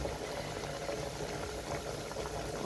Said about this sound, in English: That's my plantain frying up right now.